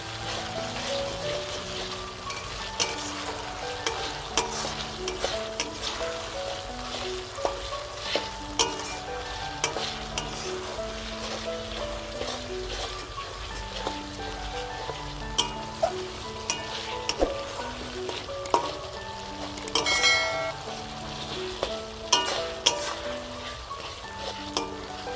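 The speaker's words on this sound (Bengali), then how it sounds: "মশলাটা ততক্ষণ কষাতে হবে যতক্ষণ না টমেটোগুলো গলে যাচ্ছে।" A Bengali chicken masala with tomatoes sautés in a pan, frying in a continuous crackling sizzle while a spoon stirs and scrapes at a steady pace throughout, no talking.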